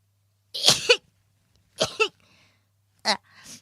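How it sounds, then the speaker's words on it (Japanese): Three short sneeze-like bursts from a young woman, each a sharp broadband blast with a voiced tail. They are spaced about a second apart, close and fairly loud, with near silence between them. "くしゃみ出そう。"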